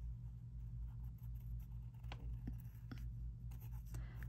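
A pen scratches number and arrow marks onto freezer paper pattern pieces for appliqué, faint quick strokes in short bursts over a quiet room hum.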